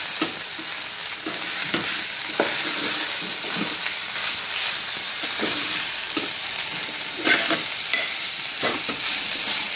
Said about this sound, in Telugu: సాల్ట్ వేసాక ఇంకా బాగా వేగుతుంది.